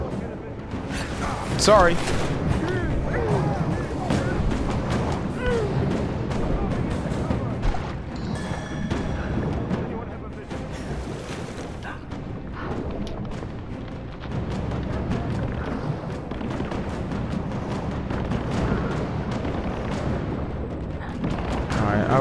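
Gunfire in the video game Rise of the Tomb Raider, dense shots and bursts layered over game sound and music, running steadily throughout with a person talking over it.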